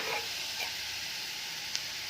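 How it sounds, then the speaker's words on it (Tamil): Greens being stir-fried in a pan outdoors, a steady soft sizzle and stirring hiss throughout, with a brief sharp tick near the end and no talking. "கீரை வசக்கிறேன்."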